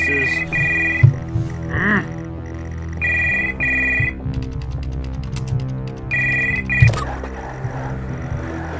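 A telephone rings in bursts of electronic trilling in the text-based horror game The House Abandon, loud and repeated over a low droning hum, with warbling tones and clicks between rings.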